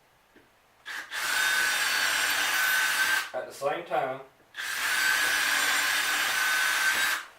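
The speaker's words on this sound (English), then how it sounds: "So it actually drills both pilot holes at the same time" Two long bursts of a power drill whirring through wood, drilling two pilot holes at once while building a hive stand, with someone speaking briefly in the pause between them.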